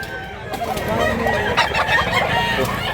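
A bullstag rooster crows amid dense, busy farmyard noise, fairly close and loud throughout.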